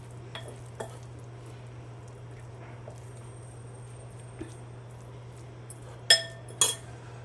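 A spoon stirs crab fritter batter, made with a quarter cup of hot oil and no water, in a bowl. The stirring is quiet and sparse over a low steady hum, and two sharper clinks against the bowl come near the end.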